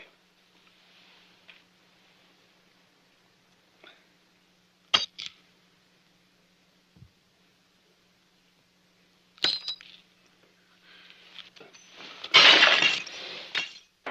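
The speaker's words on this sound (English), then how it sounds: "In the mess, we drank all our toast in broken glass." Drinking glasses are smashed after a toast in a 1965 Western drama, with a few sharp glass crashes and clinks spaced apart, ending in a louder burst of shattering and tinkling debris, no talk.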